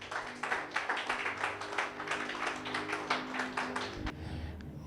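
A church congregation applauds for Jesus, a sustained burst of rhythmic clapping from many hands over roughly four seconds before it stops abruptly.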